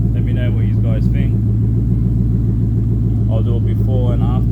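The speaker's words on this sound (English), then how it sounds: "Has a much more deeper sound now. I'm happy with the exhaust now." Deep, bassy exhaust of a Ford Mustang GT S197 with cat delete and muffler delete, idling with a steady low rumble throughout, close and loud, with brief speech-like sounds over it.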